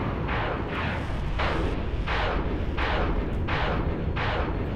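Artillery fire from space warships in the strategy game Battlestar Galactica Deadlock: a steady rhythm of about seven heavy booming shots, roughly two per second over a continuous rumble, with no voices.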